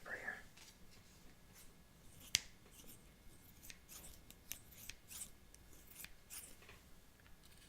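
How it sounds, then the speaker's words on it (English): Scissors snip through a piece of paper up close in a quiet room, a series of crisp, irregular cuts with soft rustling of the paper between them and one sharper snap partway through. "I guess I could cut my piece of paper here."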